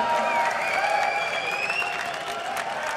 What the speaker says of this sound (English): And an applause from the crowd